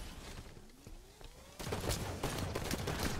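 Rapid automatic gunfire from Halo 5 during a Slayer multiplayer match, with bursts of shots that grow dense and loud in the second half after a quieter opening, and no talking over them.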